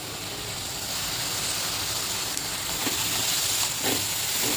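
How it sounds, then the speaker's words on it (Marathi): Malvani masala paste of dry coconut, onion, ginger and garlic sautés in oil with a continuous, even hissing sizzle and a few faint clinks, close and steady, with no talking. "चांगलं परतून घेते तेल सुटेपर्यंत"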